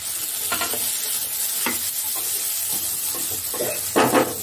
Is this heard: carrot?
yes